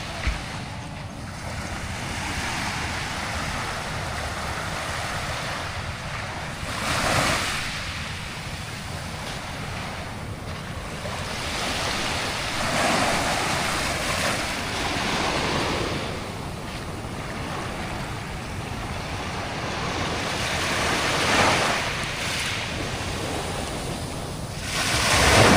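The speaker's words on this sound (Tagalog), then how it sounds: "Lumapit na naman yung lumapit na yung alon dito sa Pangpang." Ocean waves wash steadily onto a beach shore at high tide at Sitio Tangal, a continuous surf roar with gentle swells breaking every few seconds, mixed with some wind noise and no voices.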